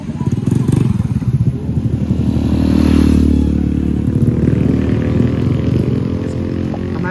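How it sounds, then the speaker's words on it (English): A motorbike engine runs loud and close, building to a throaty peak in the middle before easing, with some clatter and scraping mixed in and no talk over it. "I'm gonna take my motorbike."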